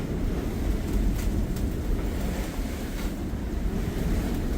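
Rough sea off Cape May heard from a sailboat with its staysail up, waves surging and wind gusting in the 30s knots, a steady loud roar of water and wind buffeting the microphone.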